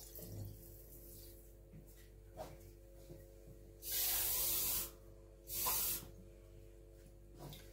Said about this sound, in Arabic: هنحط عليهم كوبايه ونص من الميه بنفس الكوبايه